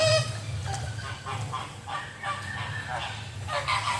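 Birds at the Jungle Island zoo in Miami give raspy honking calls, several overlapping cries over a steady low outdoor rumble, moderately close.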